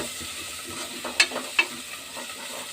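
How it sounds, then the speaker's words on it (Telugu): Boiled corn kernels being stirred with turmeric in a pan, a soft scraping and light sizzle with a few sharper clinks of the spoon against the pan, fairly quiet and steady. "పక్కనుంచిన ఈ మక్క గుడాలను వేసి మంచిగా కలపాలండి."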